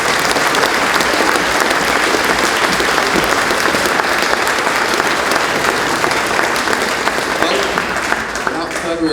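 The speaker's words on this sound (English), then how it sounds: "So can we have one final clap for Andrew?" Sustained loud applause from a sizable crowd at the DARWIN200 global voyage send-off event, dense clapping that continues evenly throughout before easing slightly at the end.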